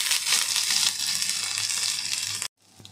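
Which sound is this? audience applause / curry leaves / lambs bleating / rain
curry leaves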